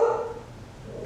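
A dog gives one short, close bark at the start, followed by faint room sound.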